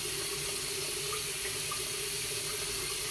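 Cold water runs from a tap in a steady, continuous hiss and splash, close and unbroken, with nobody speaking.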